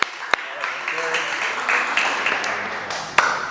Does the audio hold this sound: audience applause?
yes